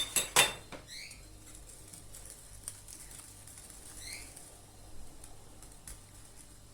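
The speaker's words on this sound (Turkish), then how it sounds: "Kabartma tozumuzu da una karıştıralım" A utensil stirs baking powder into flour in a bowl, producing soft scraping and a few light clinks at close range, with quiet patches between strokes and no speech.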